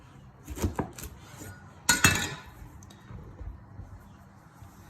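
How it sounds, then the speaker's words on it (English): A knife cuts a golden honeydew melon in half on a board, giving two or three sharp knocks and crunchy cutting strokes in separate bursts, close by, with quiet gaps between and no talk. "So I'm just going to cut it straight in half."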